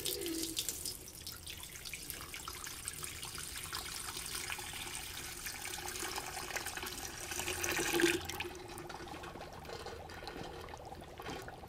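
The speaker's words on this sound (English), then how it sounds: "In comes the water." Water poured onto dry ice, a continuous rushing, bubbling hiss that swells and then stops abruptly near the end, leaving a quieter fizzing.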